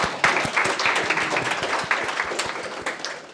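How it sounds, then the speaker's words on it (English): Small conference audience applauds after a data-update talk, a modest room of individual claps with distinct hand strikes audible, steady and fairly close. "Applause for Richard as well"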